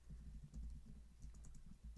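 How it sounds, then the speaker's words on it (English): Keys on a computer keyboard tapped in quick, uneven bursts close to the mic, the typing carrying on steadily over a low background hum. "we're typing as we speak"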